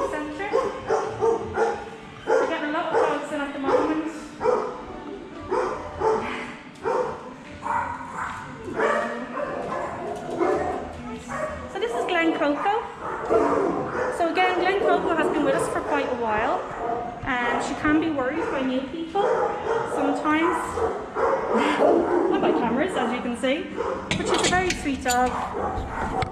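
Several dogs bark and yip in kennels at a dog rescue centre, loud and near, with whimpers mixed in and a voice talking throughout.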